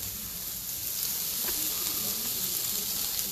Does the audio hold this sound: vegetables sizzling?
yes